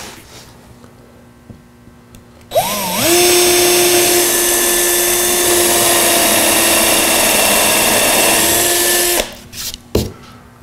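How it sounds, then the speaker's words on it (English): A power drill bores holes through the wooden top of a DIY rear drawer storage unit, one long, loud, steady whine lasting several seconds that rises as it starts and cuts off sharply, close and without talk. "we're gonna drill the holes first through the top"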